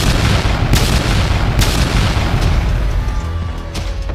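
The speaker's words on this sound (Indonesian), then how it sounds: "Suara ledakan tak henti-hentinya." Continuous heavy booming explosions, loud and dense, with repeated sharp blasts punching through a constant rumbling roar.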